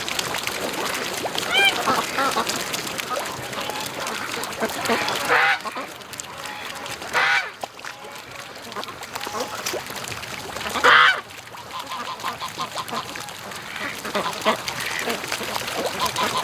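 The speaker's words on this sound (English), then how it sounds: "I hear a goose back here somewhere." Goose honking a few times in the distance near a lake, heard faintly behind someone talking close by and some wind.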